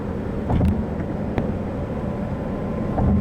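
A VW Passat GTE plug-in hybrid's petrol engine gently kicks in while driving, a steady low rumble of engine and road noise inside the car with a few faint knocks.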